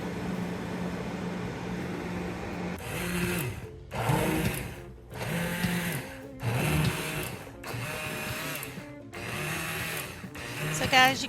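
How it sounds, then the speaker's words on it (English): An immersion blender whirs through a thick apple mixture in repeated bursts of a few seconds each, loud and close, with pauses between and talking heard under it. "you can see I'm using my immersion blender because it was a little bit thicker than I wanted it to be"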